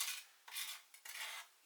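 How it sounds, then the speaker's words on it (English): A knife taps and scrapes rhythmically on a board, chopping garlic ground with salt for a street-food ox heart pitta, in three quiet close bursts with no talking. "I'm just going to put a bit of salt on that and grind it up a little bit more."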